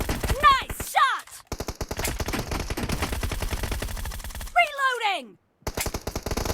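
Suppressed Groza rifle fire in a video game team deathmatch: rapid bursts of muffled automatic shots in steady rhythm, close and loud, with short gaps and brief electronic chirps between bursts.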